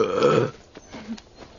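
A single deep, loud burp from a scene in the animated film Shrek opens the clip, then fades into a few faint, quiet sounds.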